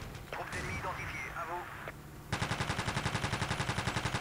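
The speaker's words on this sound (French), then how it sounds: "Je vais te montrer comment on sert d'une mitrailleuse, moi, gros." Machine gun fire in the video game Battlefield 2, a rapid, steady burst of evenly spaced shots that starts partway through and runs to the end, loud and close, after a stretch of other game sounds.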